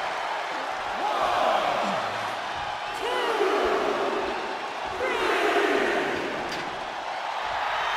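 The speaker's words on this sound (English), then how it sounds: "The sound of this crowd is deafening" Roaring arena crowd at a WWE 2K24 Last Man Standing wrestling match, a steady wash of cheering and shouting that swells in waves, with commentary voices talking over it.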